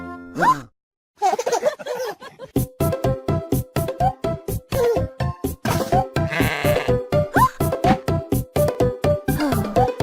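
A sheep bleats over and over in quick, loud, wavering cries, mixed into a children's song with a steady plopping beat.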